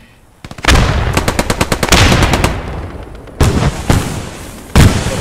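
Loud bursts of rapid automatic gunfire from the World War II video game Post Scriptum, starting with a long volley fired at a truck, then shorter bursts and single heavy shots echoing, up close and with no voices.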